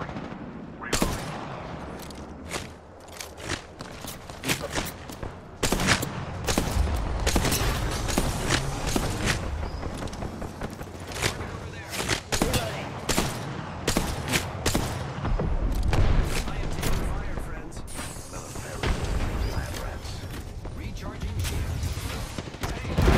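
Continuous Apex Legends Season 10 combat gunfire, with dense rapid bursts and single shots, booms and thuds, plus intermittent game voice lines, filling a long loud stretch.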